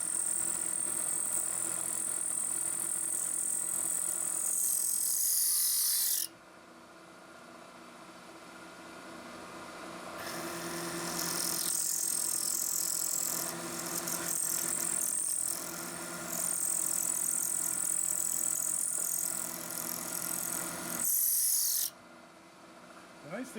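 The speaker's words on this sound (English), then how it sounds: "the cutter's ejecting chips really well" Lathe cutter machining a part, ejecting chips as it goes, with a steady near mechanical whine and rattle that stops abruptly, resumes with rising grinding, then cuts out and briefly returns.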